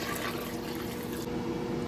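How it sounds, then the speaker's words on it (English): Hot water poured into a cooking pot of Jamaican-style cow foot, a steady close liquid rush lasting about two seconds with no talk. "Some water, hot water."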